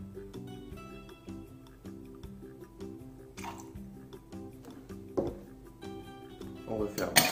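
Cranberry juice is poured into a cocktail shaker with vodka and peach liqueur for a shot, a brief, faint trickle and splash set under steady background music.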